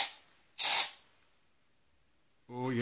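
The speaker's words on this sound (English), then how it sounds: "I'm gonna give him a little test spray" A single short, sharp burst of aerosol insect spray hisses close by at a large spider, followed by silence and then a voice starting to speak.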